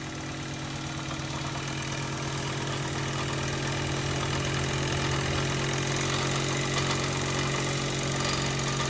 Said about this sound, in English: compressor, as it runs extremely smoothly